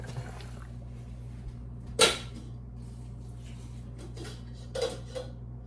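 A metal pot clanks as a lid is set against it to drain the water, two sharp close knocks a few seconds apart over a low steady kitchen hum, with faint rattles between and no talk.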